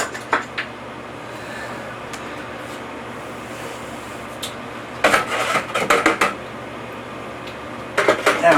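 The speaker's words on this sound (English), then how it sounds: "that clunking noise you hear is me washing the hooks in Clorox and" Metal hooks clunking and clattering as they are washed in a basin of Clorox and water, with scattered faint knocks early on and bursts of louder rattling near the end, close by.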